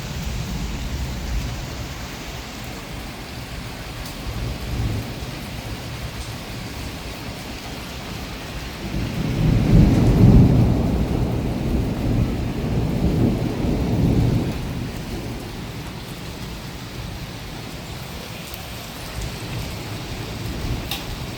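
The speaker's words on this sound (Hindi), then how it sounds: "बिजली गरज रही है और भयंकर बादल हो रहा है और बारिश हो रही है भयंकर" Heavy rain with fine hail hisses steadily while a deep rumble of thunder swells in the middle and slowly fades back into the downpour.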